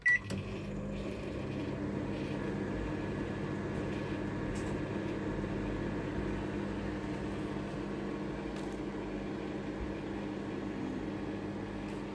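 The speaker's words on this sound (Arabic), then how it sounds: "اسيحها في الميكرويف." A microwave oven hums steadily while melting butter for a caramel sponge cake, a constant low mechanical drone with fan whir, close and unbroken, starting after a brief click, with no talking.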